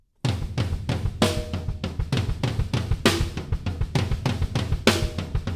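A 6/8 drum groove played on the toms with flams, a kick drum landing between every tom note; steady, loud, close-miked rolling hits with sharp accents, no talking.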